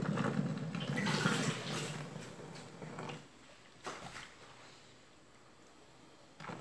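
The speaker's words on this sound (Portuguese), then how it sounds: "Agora eu vou colocar o bicarbonato" Baking soda dissolved in water is poured into a container, a close liquid splashing and gurgling for about three seconds, then quieter drips and small knocks.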